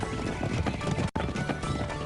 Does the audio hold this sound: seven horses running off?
yes